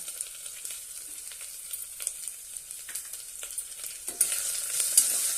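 Finely chopped tomato sautéing in a pan with ginger-garlic paste, a steady sizzle with scattered stirring scrapes that grows louder near the end.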